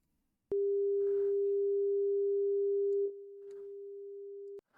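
A steady 400 Hz sine tone generated in Reaktor starts abruptly, holds loud and unwavering for about two and a half seconds, dips slightly in level, then continues until it cuts off sharply, with faint background noise around it.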